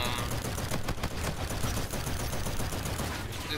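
Rapid continuous gunfire from a gun in the shooter Call of Duty: Infinite Warfare, a dense loud stream of shots running unbroken through the whole moment.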